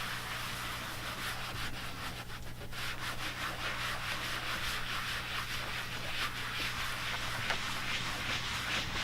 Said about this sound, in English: you can use more stain and just kind of rub it in there.